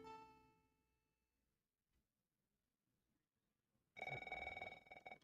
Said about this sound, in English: And let's answer the phone.